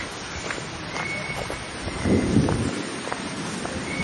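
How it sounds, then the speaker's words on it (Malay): Rain falls steadily at a riverside campsite, a soft continuous wash of drops with a brief louder patch in the middle, heard up close with no talking. "Sekarang tengah hujan guys."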